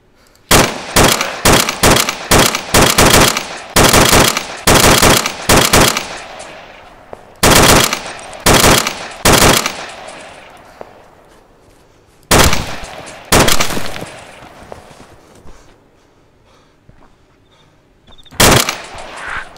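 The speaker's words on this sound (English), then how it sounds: "So it's a lot more sharp and dirty sounding than the vanilla Arma sounds." AK rifle firing in Arma 2 with the JSRS sound mod: loud, sharp bursts of automatic fire and single shots, spaced with pauses and short decaying echoes between volleys.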